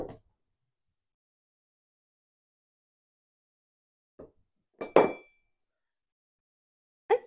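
A glass jar is handled while cocoa is put into it, producing a few isolated clinks and one brighter ringing tap separated by silent pauses.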